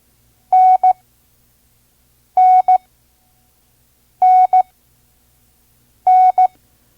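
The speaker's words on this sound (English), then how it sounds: "Can you hear the difference between the dash, the longer first tone, and the dot, the second shorter tone?" Morse code for the letter N sounds four times as a clear steady tone, a longer dash followed by a short dot, each pair spaced evenly about two seconds apart against silence.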